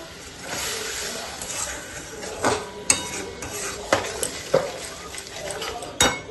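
Tamarind and jaggery stirred in a pan with a metal spoon: soft scraping and a low sizzle throughout, punctuated by several sharp clinks of utensil against the pan, close and fairly loud.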